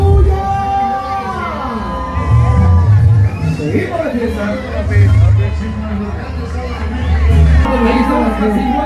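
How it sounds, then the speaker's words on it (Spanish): Crowd at a traditional carnival parade with chinelos dancers in Chimalhuacán, cheering, whooping and shouting in bursts over a loud announcer and background music. "Que se escuche fuerte el ambiente, fuerte los aplausos y la bulla"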